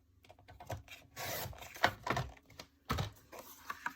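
Paper edges for a scrapbook album being trimmed with a blade, a series of short, close scraping cuts and rustles in an irregular rhythm, quiet and separated by brief gaps.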